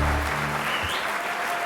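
Applause from an audience at the Ivor Novello music awards ceremony in the UK, a dense steady wash of clapping that holds at an even level for the whole moment, with a few low voices underneath.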